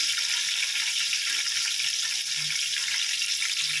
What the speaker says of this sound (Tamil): அது நல்லா பொரிஞ்ச உடனே இப்போ நம்ம வெங்காயம் போடணும்.